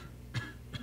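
Two short, faint coughs, evenly spaced a moment apart, in a quiet setting.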